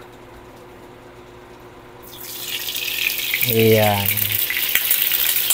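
Cooking oil poured onto a hot pan on an Astron Powerheat1 infrared cooktop, a quiet hum abruptly giving way to a loud, close, bright sizzle that swells and holds, with a brief spoken word at the start.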